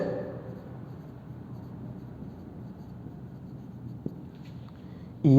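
Letters are written on a board during a real analysis lecture as a faint, continuous scratching at close range, with a single sharp tap near the end and no speech.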